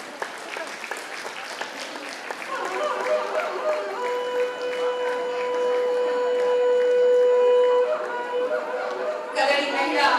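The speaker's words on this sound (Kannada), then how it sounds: "ಅವರಿಗೊಂದು ಜೋರಾದ ಚಪ್ಪಾಳೆ ಬರಲಿ." Loud audience applause with crowd chatter for the Kadali Mahila Vedike women's singing group after their song, at a district women's Kannada literary conference in Kuvempu Kannada Bhavan, Davanagere. Steady clapping runs throughout, with a sustained tone in the middle.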